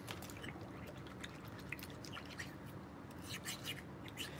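Water drips and trickles in a kitchen sink while a trumpet slide is scrubbed clean, a steady wet patter with small splashes and occasional louder drops close by, fairly quiet throughout.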